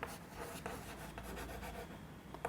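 A teacher writes on a board during a classroom maths lesson, with quiet, continuous scratching and rubbing strokes and a few sharper taps, heard alone without talk.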